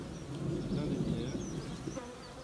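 Honeybees buzz thickly and close around an opened hive during a colony split. The hum is continuous and fairly loud, with individual bees whining past.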